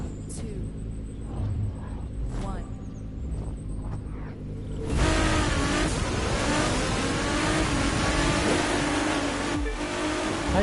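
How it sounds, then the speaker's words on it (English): In The Crew 2, an NSX supercar's engine rumbles at idle, then surges loudly into hard acceleration partway through, its rising roar holding steady to the end. "Nice thing about the NSX is you can boost from the start"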